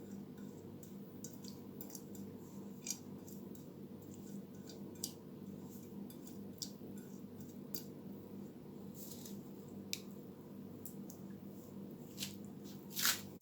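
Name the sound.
pouring seasoning over raw chicken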